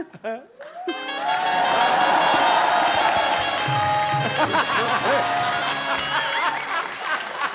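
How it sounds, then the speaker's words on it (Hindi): A studio audience at a comedy talk show claps and cheers in a loud, dense wash that runs steadily throughout, with voices talking over it. "तालियां बजाना।"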